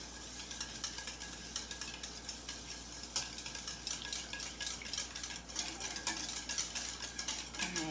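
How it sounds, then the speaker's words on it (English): Wet muffin batter being stirred in a bowl to break up egg, soft rhythmic scraping and light clicks of a utensil against the bowl, quiet and close. "I'm going to give this a little bit of a stir up to break up that egg."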